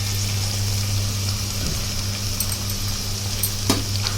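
Taro roots fry in a pan with chili powder, giving a constant loud sizzle with a couple of sharp scrapes and clicks from stirring toward the end.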